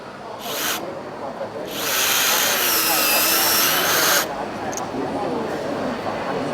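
A Makita stud cutter whines in bursts cutting threaded rod, a short grinding run followed by a longer sustained cutting whir, then quieter mechanical rattling.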